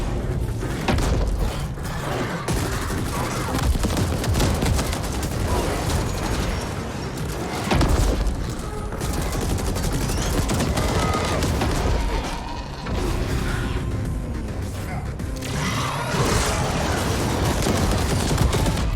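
Sustained gunfire and rocket blasts from the shooter game The Ascent, dense bursts of shots and booms rolling on continuously with brief lulls, loud and close throughout.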